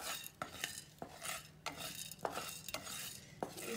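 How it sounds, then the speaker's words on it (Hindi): Coriander and spices roast in a kadai with little oil, a spoon scraping and clinking against the metal in repeated strokes, faint and close with a light dry sizzle. "और मैं ये धनिया डाला है मैंने इसमें, अब इसे अच्छे से हम भून लेंगे।"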